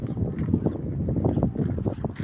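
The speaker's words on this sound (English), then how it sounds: "I know you can hear the breeze in the background." A breeze blows steadily outdoors on a mild day, a continuous soft rushing with gusty swells that buffet the microphone, heard close and fairly loud with no talk over it.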